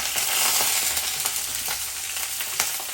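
Green chillies and medium eggplant frying in four or five spoons of oil for a chutney, a steady close hiss of sizzling with faint crackles and scraping, no voices.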